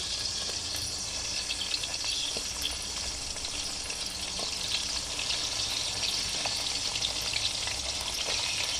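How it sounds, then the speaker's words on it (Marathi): Brinjals sizzle and crackle steadily as they fry in hot oil for a masala vangi dish, a continuous close, dense frying hiss with no talking. "आपण तेल गरम करायला ठेवलेलं आहे आता आपण आधी वांगी घालून घेणार आहोत सगळे"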